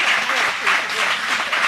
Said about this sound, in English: Clap it up for that answer